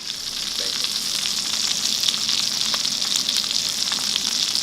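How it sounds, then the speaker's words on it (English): A pork roulade sears in bacon grease in a pan, giving a steady, loud, close sizzle and crackle throughout with occasional pops and no talking. "we're just gonna continuously make a circle, searing it off until it's totally encapsulated with flavor"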